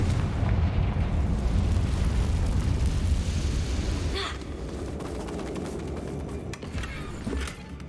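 A Confringo fire-spell blast in Hogwarts Legacy, a loud rumbling explosion with a sustained roar that fades after a few seconds, followed by a sharp crack and lingering crackle.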